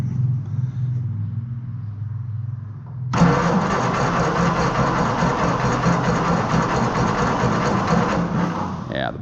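A car engine cranks sluggishly on a weak, dying battery, first a low labored churn, then a louder, continuous grinding crank that runs on for several seconds without firing.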